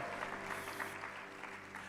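A church congregation claps together during a worship service, a faint, steady wash of applause under a low hum, with no clear voices.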